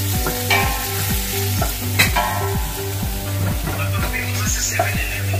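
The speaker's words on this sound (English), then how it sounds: "Onions, saute the onions." Onions sauté in hot cooking oil and olive oil, giving a steady loud sizzle and crackle with repeated scraping stirs of a utensil against the pan, close by, with no talk.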